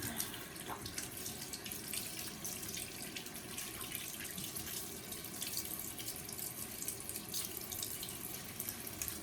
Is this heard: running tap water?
yes